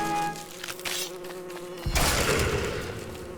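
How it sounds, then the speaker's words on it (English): Killer bee from the game Don't Starve, a close, steady insect buzz that swells into a louder, rougher buzzing burst near the end, heard alone without talk. "Oh, killer bee to the rescue."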